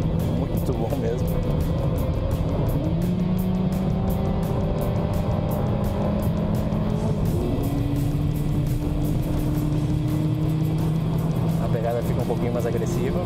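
A Volkswagen Virtus GTS with a 150-horsepower 1.4 turbo engine drives steadily, its engine tone climbing and shifting through quick gear changes, continuous and fairly close, with people talking over it.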